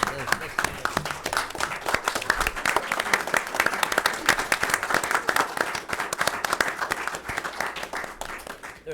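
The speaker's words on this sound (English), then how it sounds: "Let's stand, give a round of applause." Standing ovation at a school district board meeting honoring a retiree after 35 years, with dense, steady clapping from a room of people lasting throughout, loud and close.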